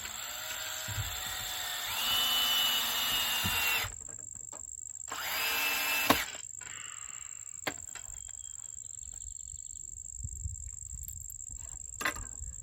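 A cordless power drill drives 2.5 inch screws with washers into wood, two sustained whirring bursts of about two and three seconds each, followed by quiet clicks and taps of handling.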